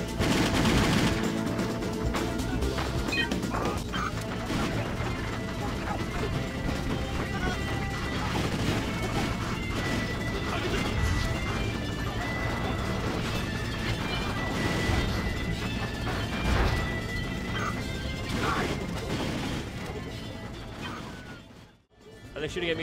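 Dense, continuous gunfire and crashing in the video game Just Cause, a busy loud mix of shots and impacts that persists nearly throughout, with a brief drop near the end.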